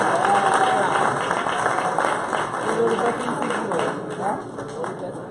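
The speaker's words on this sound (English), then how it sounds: "let us give them a round of applause" At a security company's Christmas cocktail reception, an audience gives the entertainers a round of applause, a moderate spread of clapping mixed with crowd murmur and some voices.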